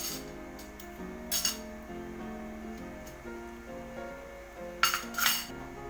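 Metal utensils clink against a pot as molo dumplings go in for pancit molo, a few scattered bright clinks over a low steady hum, close by with no talk.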